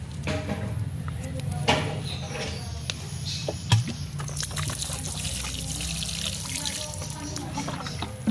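Excess water trickles and drips steadily out of a freshly repotted Pachypodium 'Lamerei' pot after a thorough watering, a soft continuous dribble with a few sharper drops.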